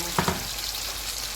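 Green chillies frying in oil in a karahi pan for Shinwari chicken karahi, a steady close sizzle with a couple of quick stirring clatters near the start.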